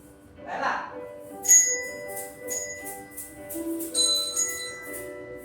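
Handbells, each labeled with its own musical note, ring out one after another in a group exercise, with bright sustained tones overlapping after a brief voice at the start.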